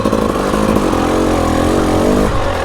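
A Husqvarna TE300i dirt bike engine drones loud and close while riding, a sustained raspy two-stroke buzz with slight pitch wavering that drops off near the end.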